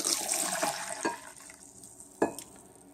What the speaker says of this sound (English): So I'm going to pour the chaga back.